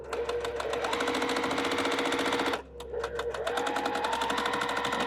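A sewing machine stitching quilt pieces for a baby quilt runs loud and close in a fast steady whir, pausing briefly midway before resuming at the same pace, with no talking.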